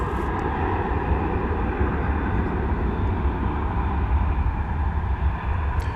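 An American Airlines Airbus A321 arriving from Phoenix lands with a loud, steady engine roar and broadband rumble that holds throughout, with no speech.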